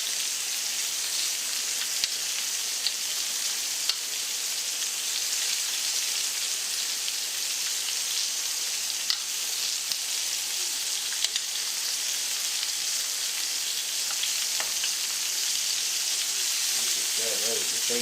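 Food sizzles and crackles steadily in a pan on an electric stove burner set to medium-high, a dense, continuous hiss with faint scattered pops throughout.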